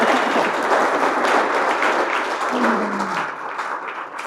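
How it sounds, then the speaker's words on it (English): Audience applause at a talk about entrepreneurship, dense continuous clapping from a crowd filling the room, loud and sustained before easing slightly toward the end. "Can we give that a round of applause?"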